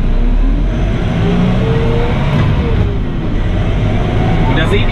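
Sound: McCormick X4.100F tractor driving forward with P3-Drive transmission

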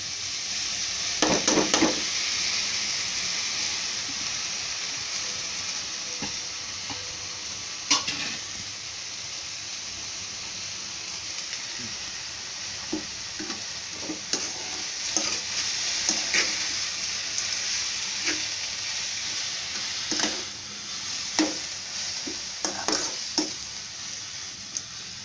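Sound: fenugreek leaves and moong dal cooking in pan

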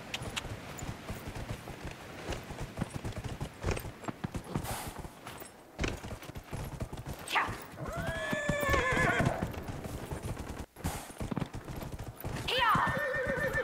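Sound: horse neighing and galloping in video game Dragon Age: Inquisition

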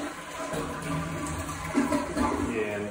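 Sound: malfunctioning toilet running water

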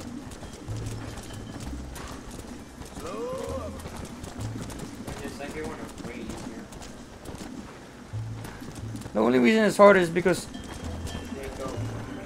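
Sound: horse hooves galloping, from the video game Red Dead Redemption

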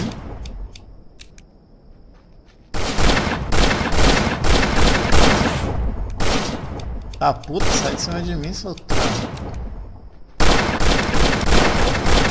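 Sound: gunfire in video game Sunset Rangers

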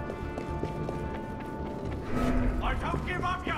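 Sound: horse hooves in video game Assassin's Creed Unity

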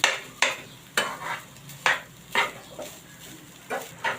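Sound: khoa and coconut being stir-fried in a pan

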